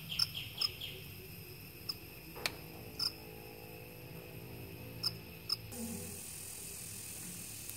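A swarm of crickets chewing through leaves gives a faint, steady high-pitched trill, broken by a few sharp, sparse chirps.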